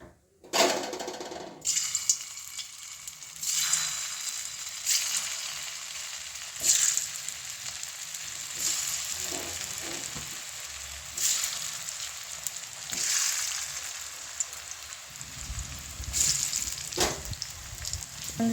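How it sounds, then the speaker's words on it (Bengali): Mung dal and green banana kofta balls fry in hot oil in a wok, a steady close crackling sizzle running throughout with brief louder pops and spatters, no voices. "এবার এটি তেলে ভেজে নেব"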